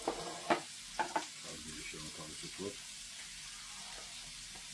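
Mackerel cooking in oil and butter for a tomato-sauce dish fries in a pan with a soft, steady sizzle and a few clattering stirs near the start, then continues low and even.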